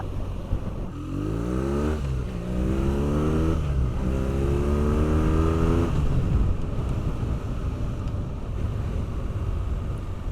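A BMW R nineT Pure motorcycle engine growls and revs, rising in pitch through a few accelerations before settling into a loud, close, rumbling drone.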